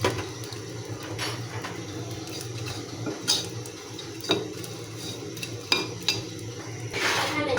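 Dried chela fish dry-roasting in a pan, with a spatula stirring and scraping against the metal in repeated clattering strokes over a faint steady crackle, close and moderately loud.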